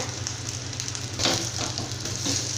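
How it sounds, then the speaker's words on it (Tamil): Cashews and grated coconut fry in ghee for moong dal payasam, producing a steady close sizzle with a brief louder crackling swell partway through. "நல்லா நெய்யோட நல்லா இந்த மாதிரி நல்லா வறுத்து விடுங்க"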